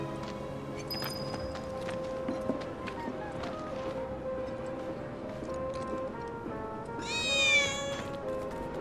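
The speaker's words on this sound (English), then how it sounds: "I swear I just heard a cat" A cat meows in Final Fantasy VII Remake, one short clear meow late over a steady bed of game ambience and music.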